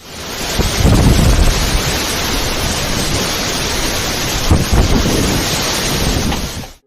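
A violent storm with roaring wind, a loud, steady broadband roar that swells slightly near the start and again midway, with no voices present.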